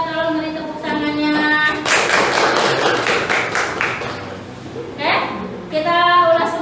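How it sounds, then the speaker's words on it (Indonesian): Classmates at a vocational school clap for a student group after its presentation, a dense burst of close applause lasting a few seconds between stretches of a voice talking before and after. "Tolong beri tepuk tangannya."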